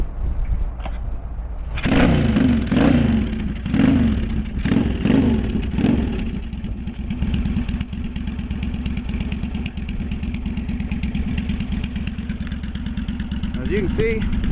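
A handbuilt motorcycle with a PMA charging system and no battery is kick-started and fires up with its headlight on, then settles into a steady mid-pitched running rumble with a few early revs, loud and close.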